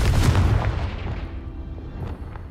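A Confringo blasting spell in the video game Hogwarts Legacy detonates with a loud, deep boom that rumbles and decays over a couple of seconds, followed by fainter crackling debris.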